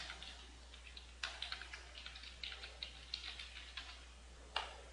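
Someone types SQL on a computer keyboard, producing quiet, uneven clusters of light clicking keystrokes with a few sharper key presses, close and alone against a low steady hum.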